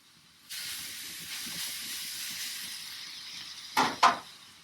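Spinach thrown onto a hot flat top griddle set off a sudden, loud, steady hiss that holds for several seconds, then flares twice near the end.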